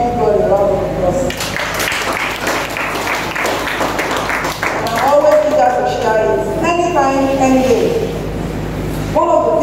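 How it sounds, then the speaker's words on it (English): A church congregation at a teens service claps in applause, a loose burst of clapping mixed with a speaker's amplified voice talking over it and some cheering. "Let's give God a round of applause."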